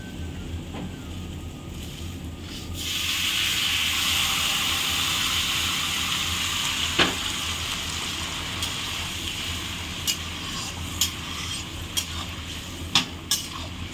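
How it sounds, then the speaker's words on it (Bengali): Hot water poured into a pan of frying potatoes and spices for a fish curry sets off a sudden, loud, steady hiss and bubbling. It is followed by scattered metallic clinks of a spoon against the pot. "এখন গরম জলটা আমি দিয়ে দেবো"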